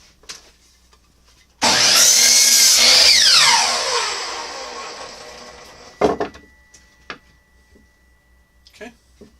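Woodworking saw cuts trim pieces to matching length at a miter box, one loud burst of sawing for about two seconds that fades out, then a few knocks and clatters.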